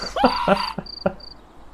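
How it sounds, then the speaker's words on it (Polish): Crickets in the video game We Become What We Behold give a few short, high chirps in quick succession, following a burst of raspy, cough-like vocal sounds. "I świersze się przyglądają. Więcej ich. Okej. Okay. Zbyt dużo świerszczy."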